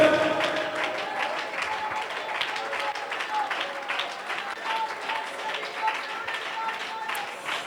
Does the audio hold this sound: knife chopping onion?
no